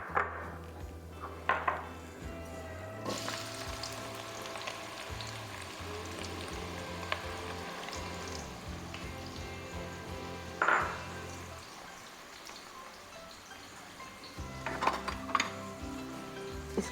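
Onion frying in oil in a home kitchen pot for shaljam gosht: a soft, faint sizzle runs throughout, broken by a few sharp clinks of a utensil against the pan.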